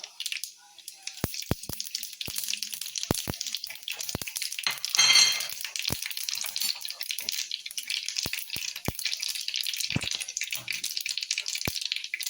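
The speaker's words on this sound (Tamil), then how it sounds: "நம்ம எடுத்து வச்சிருக்கிற கடுகு உளுத்தம் பருப்பு சேர்த்து தாளிச்சிக்கலாம்" Hot oil sizzles steadily with scattered sharp pops and crackles, as mustard seeds and urad dal lentils fry in a pan for tempering.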